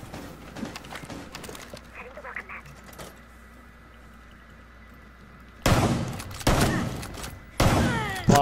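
Gunshots in the Breach and Clear video game: a few sharp, loud bursts in the second half, following quieter clatter and brief talk, each shot ringing out separately.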